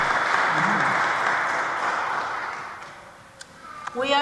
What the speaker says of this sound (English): So why don't we give them a big round of applause.